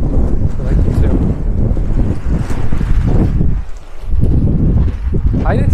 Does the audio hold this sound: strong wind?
yes